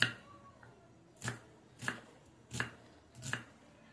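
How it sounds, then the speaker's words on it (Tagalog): A knife strikes a cutting board four times at roughly even intervals, slicing onions, tomatoes and garlic; crisp, close chops with quiet gaps between and no one speaking. "mag-slice tayo ng mga onion, kamatis at garlic"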